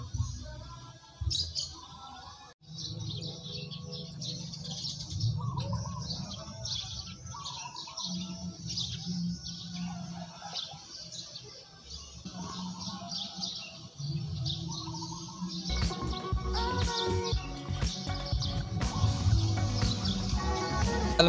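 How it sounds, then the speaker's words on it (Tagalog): Birds chirp and tweet outdoors in a housing village in Cabiao, Nueva Ecija, Philippines, over a steady background hum, calls scattered throughout and growing busier toward the end. "naririnig nyo naman yung tunog ng mga ibon natin"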